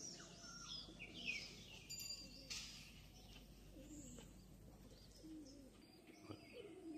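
Pigeons, including a female Madrasi pigeon, coo in soft repeated phrases amid steady bird chirps and tweets, with occasional faint wing flaps and a constant low background hum.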